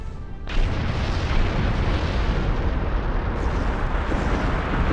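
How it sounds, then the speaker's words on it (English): A big explosion in the space game Star Trek Online erupts as a sudden loud boom, then rolls into a sustained, dense rumbling roar that carries on at full strength with no talking. "That was a big explosion."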